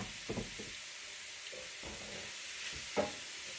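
Cheesesteak sloppy joe meat sizzling in a pan over medium-high heat, a steady frying hiss with occasional scrapes and stirring knocks from a utensil, close and moderately loud.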